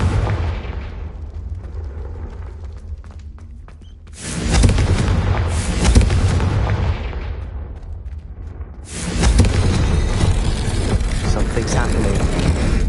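A Confringo blasting spell goes off in the video game Hogwarts Legacy, with two loud booming explosions a few seconds apart, each rumbling on over a steady game background.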